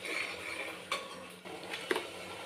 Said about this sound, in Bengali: আবারও ভালো করে মিক্স করে নেব। যতক্ষণ তেলটা না ছেড়ে দিচ্ছে আমি ভালো করে কষিয়ে নেব।